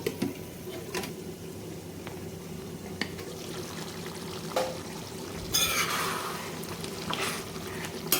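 Water poured into a pot of mutton and drumstick curry, a soft splashing trickle that swells around the middle and then settles under a steady low hum, with a few light clinks.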